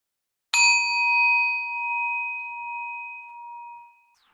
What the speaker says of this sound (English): I will ring the bell, and when the sound of the bell is gone